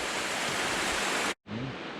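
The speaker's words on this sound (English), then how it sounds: "you'll be able to hear the waterfall to the side of me" Waterfall near Luang Prabang, a loud, broad rushing roar of falling water that cuts off briefly, then returns slightly softer with a low tone underneath.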